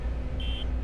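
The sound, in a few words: beeping in a video game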